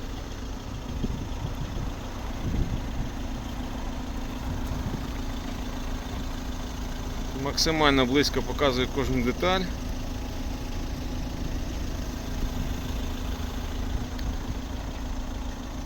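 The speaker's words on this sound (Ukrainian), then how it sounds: "автомобіль заведений і працює" A 2014 VW Tiguan 2.0 TDI diesel idles steadily with a constant low hum throughout, while a voice speaks briefly over it midway.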